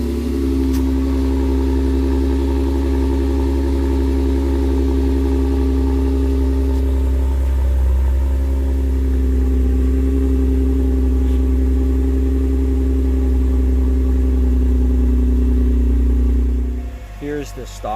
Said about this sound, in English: obviously going to have a nice throaty exhaust. Okay, so I'll start it up